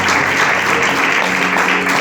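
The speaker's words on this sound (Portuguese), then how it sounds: "as palmas são bem fortes" A church congregation claps loudly together in a dense, continuous roar of applause that fills the room.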